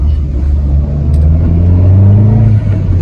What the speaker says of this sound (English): So let's just give the car a run and see how it is.